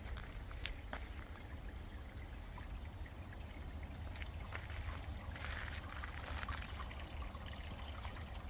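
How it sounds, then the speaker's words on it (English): Clean water trickles steadily at a small spring along the Appalachian Trail, a continuous close wash of running water with no talk over it. "A nice little water source."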